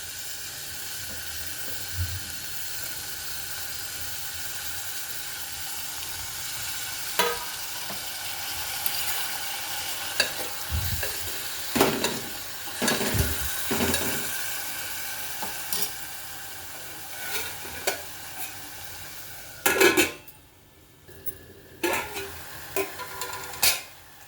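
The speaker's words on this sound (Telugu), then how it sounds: "ఇప్పుడు టమాటా ముక్కలు వేసేస్తున్నాను." Tomato pieces sizzle and fry steadily in a pan for a Telugu tomato and raw banana curry, with a continuous hiss broken by several sharp stirring and clattering bursts near the end; no talking.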